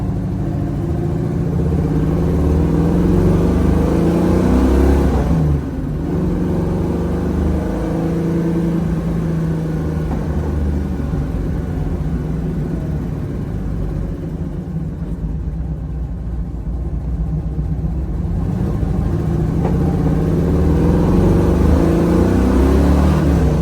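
A 1969 Chevrolet Camaro with a big block V8 and five-speed manual drives down the road, its engine a loud, steady rumble that swells and eases with throttle, heard close and alone.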